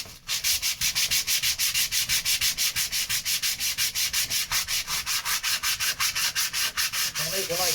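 A sheet of sandpaper is worked by hand over wood at a boat in fast, even, rhythmic strokes, close and continuous, with no talking.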